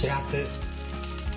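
Shirasu whitebait sizzles as it is lightly stir-fried in olive oil for a cabbage and natto dish, a close, soft continuous frying hiss while a voice briefly speaks over it.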